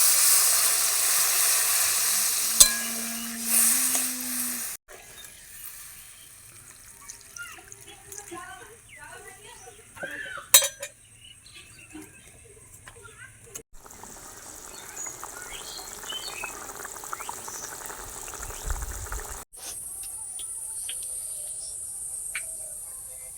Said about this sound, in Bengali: মশলাটা কষানো হয়ে গিয়েছে, এবার জল দিয়ে দেবো।